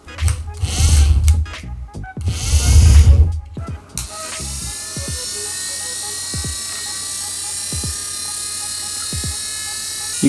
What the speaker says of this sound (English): It's probably the most powerful toothbrush I've ever seen.